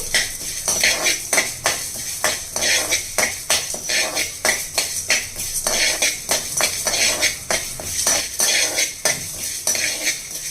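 Whole spices like cinnamon and star anise are dry-roasted in a pan, heard as a rapid, steady series of metallic spoon scrapes and taps against the pan, close and loud throughout.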